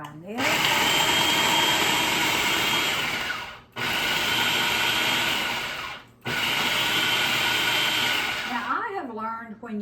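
A food processor grinds cabbage, carrots and onions in three long, loud whirring pulses separated by brief stops, close up, with a voice briefly heard at the end.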